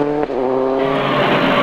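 A Ford Focus rally car attacks a very fast gravel stage, its engine screaming high and near with a brief gear-change dip, then a rough, surging roar as it powers on.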